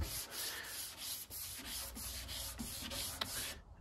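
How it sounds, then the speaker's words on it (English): Close, rhythmic strokes of wet sanding on a Porsche 911 body panel during prep for painting, repeating evenly and continuously with no talk. "start sanding."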